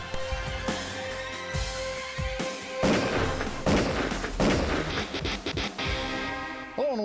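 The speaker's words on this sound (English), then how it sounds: "She's shooting." Gunshots ring out in a reenacted driveway robbery as a series of loud, booming bangs and crashes at irregular intervals, close and forceful.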